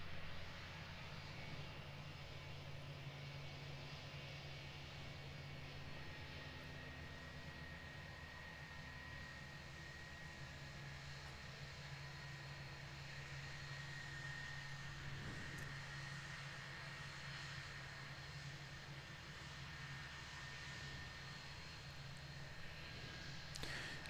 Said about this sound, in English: Here comes our A320 though